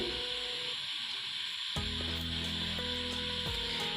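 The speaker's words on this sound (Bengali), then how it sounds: "এবার মশলাগুলো দিয়ে কষিয়ে নিব ভালোভাবে" Ground spice paste of cumin, coriander and dried chilli with turmeric and salt fries in oil in a pan, a steady close sizzle with an added crackle after a stir partway through, no voices over it.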